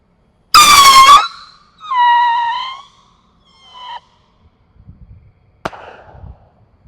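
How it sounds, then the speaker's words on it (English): A triple Screamin' Demon firework rocket from Pyro Demon gives three loud, piercing whistling screams one after another, then a sharp crack of a burst and scattered crackles that fade out. "This is the triple Screamin' Demon from"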